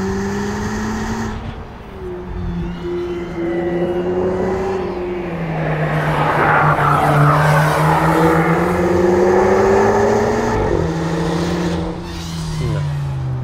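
A tuned VW Polo GTI race car brakes hard and shifts down through a chicane, engine note dropping then climbing as it accelerates away, loud and close, with tire noise and brief exhaust crackle.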